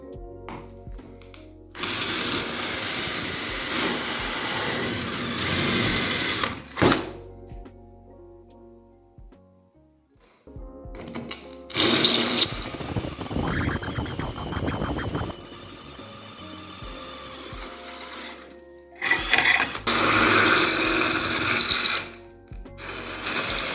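An electric drill with porcelain tile bits runs in several long bursts, grinding into tile with a loud, high squeal, separated by short pauses and near silence as the two bit types are tried.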